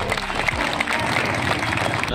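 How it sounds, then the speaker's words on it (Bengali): An audience at a municipal ceremony honoring a Santosh Trophy-winning football team breaks into a brief, dense burst of clapping with crowd noise, swelling louder at the end. "একবার জোরে হাততালি সবাই।"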